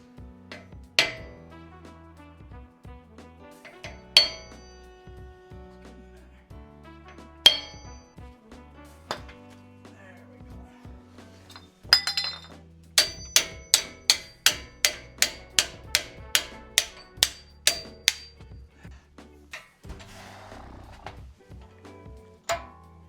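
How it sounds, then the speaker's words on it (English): Hammer blows knocking the axle dust cover off a 2nd gen Toyota Tacoma front hub, sharp metallic strikes, first spaced out, then a rapid run of a dozen evenly timed hits, close and loud with no talk. "We're going to use a hammer and whatever we can to get this off."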